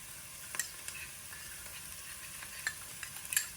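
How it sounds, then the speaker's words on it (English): Spices stirred into caramelizing mirepoix vegetables in a soup pot, a soft steady sizzle with faint scraping stir strokes and light clicks, close and quiet. "Okay, so I'm going to mix these spices together."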